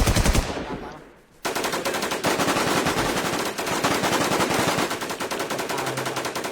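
Loud automatic gunfire in the video game Infestation, a short burst, a brief lull, then a long sustained rapid volley rattling close and dominant.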